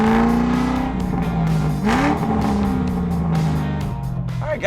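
A stock 2006 S197 Mustang GT with a 3-valve V8 driving on the road, a loud close engine drone rising and falling through gear changes, with steady road and wind noise.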